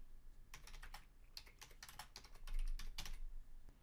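Fingers type an email on a computer keyboard in quick bursts of close, crisp key clicks, with short pauses between runs and a busier flurry near the end; no one speaks.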